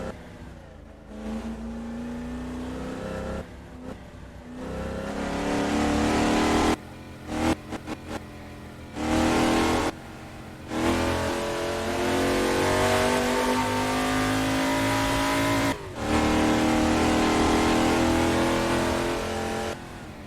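A 1970 Chevrolet Chevelle SS V8 in Assetto Corsa revs hard and accelerates through repeated gear changes, loud and close, its rising engine note cutting out briefly several times between pulls.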